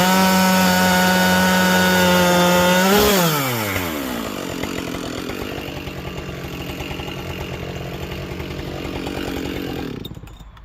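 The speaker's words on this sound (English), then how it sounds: "crank up the volume if you love the sound of the chainsaws." Chainsaws bucking a pile of logs roar loud and close, an engine rising to full throttle, then dropping into a steady, rough cutting drone that carries on for several seconds before cutting off.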